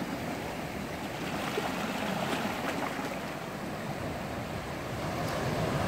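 Surf rolls onto a Maui shore in a steady, broad wash of water noise, close and continuous, with a touch of wind and no voices.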